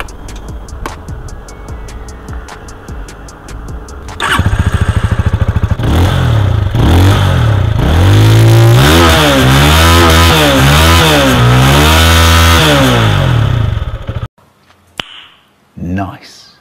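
A SYM VFE 185cc motorcycle engine idles with a low clatter, then revs up strongly several times in rising and falling sweeps, loud and close, before cutting off abruptly near the end.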